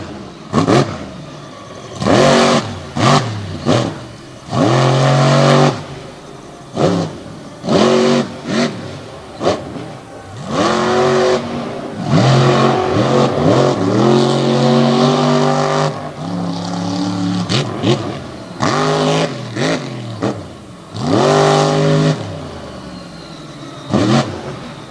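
Race cars at Jennerstown rev hard in repeated loud bursts, engines climbing and dropping in pitch, some sweeping past, in an all-star double-header event with no talk over them.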